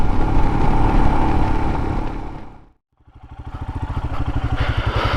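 A Royal Enfield Himalayan motorcycle with raised handlebars rides on a dirt trail, its steady engine droning loud and close, cutting out briefly mid-ride before a rhythmic thumping pulse returns and builds.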